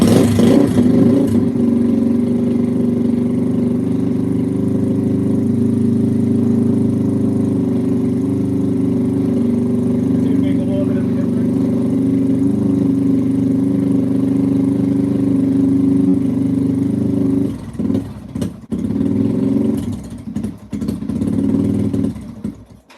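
A 2005–2009 Yamaha TTR-230 dirt bike engine runs steadily and loudly up close, holding a rough mid-pitched drone before dipping and stuttering near the end as it is given gas while a pilot mixture screw is adjusted.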